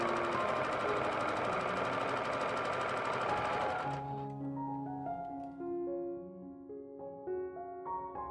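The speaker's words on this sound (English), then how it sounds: "I followed the same steps to sew the other half of the stripe to the heart." Sewing machine stitching a fabric stripe onto a heart-shaped pillow, a steady close-up mechanical whir for about four seconds, then stopping as soft music plays on.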